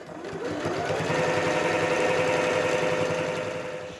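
A sewing machine stitches quilt binding with a steady, close mechanical whir and rapid needle chatter lasting the whole few seconds.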